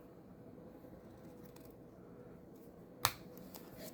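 One sharp snip of scissors cutting off a paper corner rings out over a quiet room background, brief and close.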